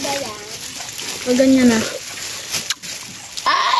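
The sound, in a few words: washing fish in seawater, splashing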